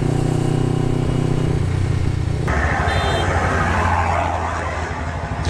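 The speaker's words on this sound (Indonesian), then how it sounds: "Gila, berisik banget mobil." A loud car passes on a road during a Ramadan motorcycle ride, its engine roaring close by over steady wind and motor drone, then rising into a revving rush as it goes past.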